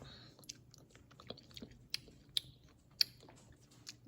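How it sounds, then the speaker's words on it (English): Someone eats slow cooker buffalo chicken dip, with soft, quiet chewing and a few sharp crunchy bites spaced across a few seconds, close to the listener and without talk. "Let's try some and see how spicy it is."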